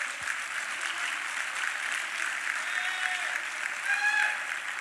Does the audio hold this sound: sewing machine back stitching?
no